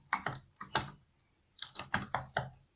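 Quick bursts of clicking keystrokes on a computer keyboard while code is typed for a Spring Boot project, tapped in two short clusters with a brief pause between them, close and clear.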